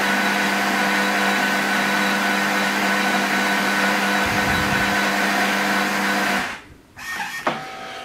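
Miele CM 5510 Silence fully automatic coffee machine brewing coffee, a steady close motor hum with constant grinding and pumping that stops abruptly near the end, leaving faint clicks.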